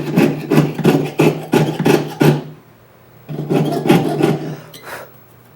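Jeweler's saw cutting silver sheet in quick, short rasping strokes, a close, loud rhythmic series that pauses briefly and then resumes for a few more strokes.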